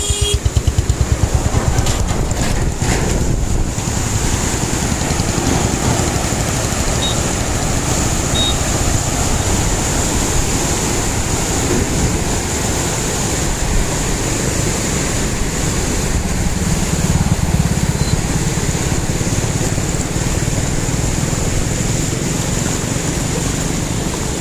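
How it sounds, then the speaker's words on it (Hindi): Fast-flowing water of the Ganges canal at the Solani aqueduct in Roorkee, a loud, continuous broadband rush and roar that stays steady for the whole stretch, with wind buffeting at the start. "कितने खतरनाक तरीके से पानी यहाँ पे फ्लो कर रहा है"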